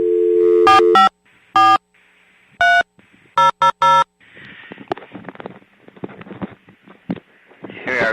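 Telephone dial tone followed by several bursts of touch-tone dialing beeps, a landline call being placed to a Sears store as a prank, then the line connecting with faint noisy crackle and clicks.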